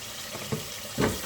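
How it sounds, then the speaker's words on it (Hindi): Water splashes into a pan of simmering chicken qorma masala, giving faint sizzling and frying with a couple of soft pours and stirs, heard up close and quietly. "तो मैंने इसमें हाफ कप जो है ना पानी डाल दिया"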